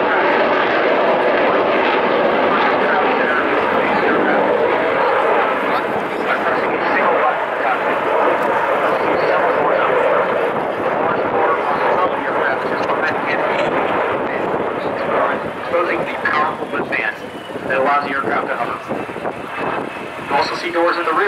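F-35 Lightning II jet at the 2016 Farnborough Air Show, a loud continuous roar of engine noise filling the whole stretch, steady and broad, slightly thinning and fluttering toward the end, with announcer talk underneath.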